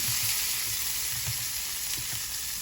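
A just-flipped steak fries in a pan with a loud, steady sizzle, broken by soft pops and crackles, and no voices.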